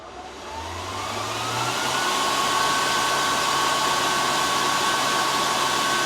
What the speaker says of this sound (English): Turn on the main fan.